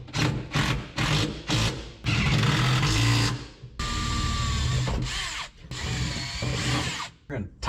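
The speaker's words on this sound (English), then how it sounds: "I drilled some new holes in this to match the old pattern" A power drill bores new holes through the metal body of a 1973 Chevrolet, several short whirring bursts and longer grinding runs separated by brief pauses, close and loud.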